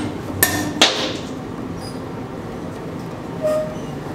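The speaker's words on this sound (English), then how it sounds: "here are the specimens after we dropped the hammer on them and then broken into two pieces" A pendulum impact hammer strikes and breaks an aluminum test specimen at room temperature in a materials lab, giving two sharp metallic bangs close together, then a faint clatter and quiet background.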